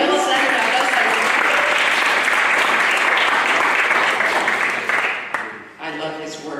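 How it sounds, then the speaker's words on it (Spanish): Loud, sustained applause from a church congregation fills the room for several seconds, then fades as a voice begins speaking. "Can we give God a hand clap?"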